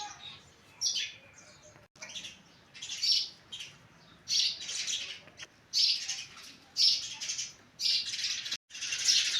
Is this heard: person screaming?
no